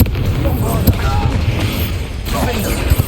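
Confringo fire-blast spell cast in the Hogwarts Legacy video game: loud booming bursts land over a dense, continuous wash of battle effects for about three seconds.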